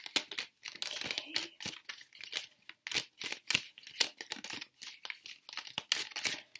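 Crisp rapid shuffling of stiff, unusually shaped oracle cards, repeated riffles and slaps close up, in quick irregular bursts.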